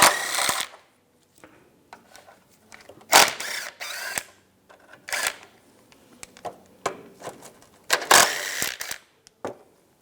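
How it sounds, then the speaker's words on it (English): A socket ratchet spins 13mm bolts out of a shield on a Chevrolet Trailblazer, with sharp intermittent clicks and bursts of ratcheting, close and fairly quiet, with no talk. "Let's use a socket."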